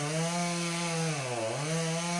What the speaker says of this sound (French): il appuie juste sur la tronçonneuse